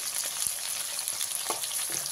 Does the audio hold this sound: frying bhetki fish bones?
yes